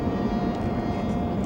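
Jet airplanes passing overhead near Logan Airport across the harbor from Castle Island in South Boston, a steady broad roar that stays loud and continuous throughout with no talking.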